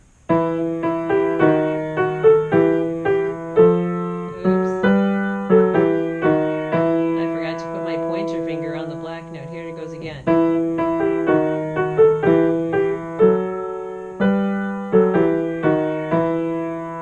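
Piano played with both hands, a moving melody over steady repeated chords in an even rhythm, loud and clear with no talking.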